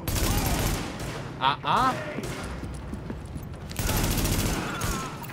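Heavy gunfire crackles in The Division, a dense, loud fusillade of rapid shots that keeps going with brief breaks, while a short spoken reply cuts in partway through.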